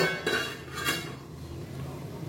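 Metal pot lid lifted off a pan of cooking ridge gourd, giving a couple of faint clinks and scrapes over a low steady kitchen hiss.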